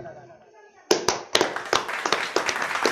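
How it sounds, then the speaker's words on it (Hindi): An audience at a school drama performance claps, starting after a moment of quiet and continuing as a run of sharp, uneven claps from several people, fairly close and moderately loud. "ये मंजर देखकर दरबार में बैठे हुए सब लोग तालियां बजाते हैं"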